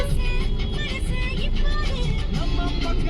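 Heavy road traffic heard close by as a continuous engine drone, with brief tonal horn-like sounds scattered over it.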